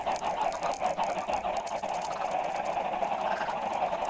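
A dense, continuous clamor of many clucking video-game chickens at once, loud and overlapping, with no voices.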